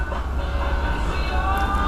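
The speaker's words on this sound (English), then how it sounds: "I'm on a train" A passenger train rolls along its rails, heard from inside the carriage as a continuous low rumble with a faint steady hum and no clear speech.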